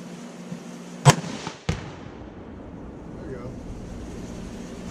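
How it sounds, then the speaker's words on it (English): Two sharp outdoor pistol shots about half a second apart, the first louder and the second slightly duller, fired in a rural hollow, followed by quiet wind noise. "Dude, you're not good at shooting pistols."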